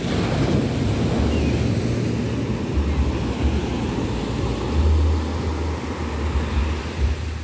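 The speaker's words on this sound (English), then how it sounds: "Look at these beautiful waves." Ocean waves break continuously on a Bali beach at night, a loud, steady surf roar mixed with wind buffeting the microphone.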